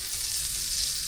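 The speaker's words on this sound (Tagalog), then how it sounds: "Tapos, magigisa tayo ng corn beef." Corned beef sautéing in a wide pan, a steady close hiss and crackle of frying that runs unbroken and fairly loud throughout, with no voices over it.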